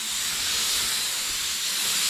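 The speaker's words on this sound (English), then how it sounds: "I actually got my gun spraying right." A paint spray gun sprays onto a vintage surfboard, giving a continuous, close, even hiss with no breaks or speech.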